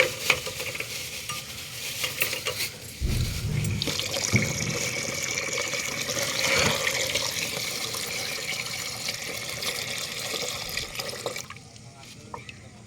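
Water is poured into a container so clay diyas can soak for Diwali. It makes a steady, close splashing pour with a heavier gush partway through, and the flow tapers off near the end.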